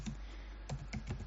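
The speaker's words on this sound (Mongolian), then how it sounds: "За тэгэхийн тулд Ctrl T дарна" Ctrl T pressed on a computer keyboard in a quiet room, a few soft, close key clicks spaced over about a second, faint and without speech.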